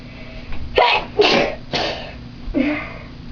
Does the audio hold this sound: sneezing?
yes